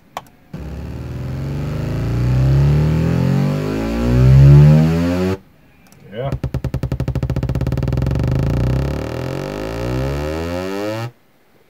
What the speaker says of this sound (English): That's a nice exhaust.